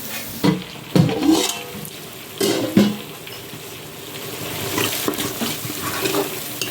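Food fries in hot oil for biryani, with a steady low sizzle broken by several louder stirring scrapes and bubbling bursts, the frying growing busier toward the end.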